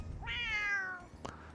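A cartoon cat called Store Kitty gives one clear, drawn-out meow with a falling pitch in a convenience-store video game. A short click follows, over a quiet background.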